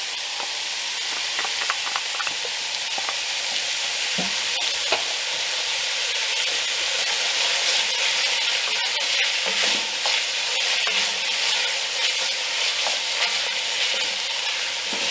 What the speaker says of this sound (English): Now we're going to go in with our vegetables. Go ahead and just brown these up.